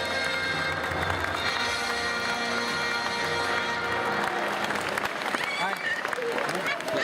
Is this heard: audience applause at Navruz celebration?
yes